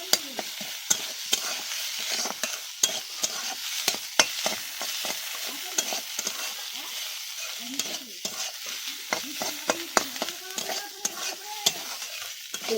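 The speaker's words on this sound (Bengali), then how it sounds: "এবার ভালো করে এটাকে ভাজা ভাজা করবো, কষাইব" Garlic and ginger paste fries in a pan with a steady sizzle, while a spoon stirs and scrapes it in frequent irregular clicks, close and continuous throughout.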